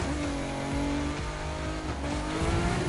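A Ford GT GTE Pro race car engine in The Crew 2 holds a loud, steady, high-revving drone. The pitch dips briefly around a gear change and then climbs again.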